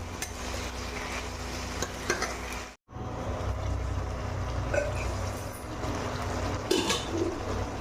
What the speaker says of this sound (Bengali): দেখো মশলাটা দেওয়ার পরে এইভাবে ভাজা ভাজা হয়েছে, এইভাবে ভেজে নিয়েছি